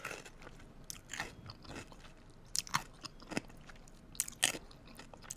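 Close, wet crunching and chewing of crisp pickles, with irregular sharp bites and moist smacking sounds at a low, intimate level.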